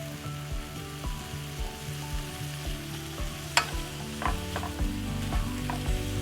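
Venison sausage with mushrooms, pepper and onion frying in a pan, a steady sizzle broken by scraping stirs and a sharp clack partway through, close and alone with no talk.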